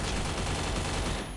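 Gunfire in the Free Fire battle royale shooter, a rapid, dense burst of shots that fills the entire moment, loud and close with no talk over it.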